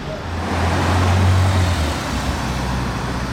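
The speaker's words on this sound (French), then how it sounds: "Regardez les gens qui passent en voiture." Cars roll past in Monaco street traffic, a broad road roar that swells and fades as vehicles go by, with a low engine drone peaking in the middle, fairly near and with no talk over it.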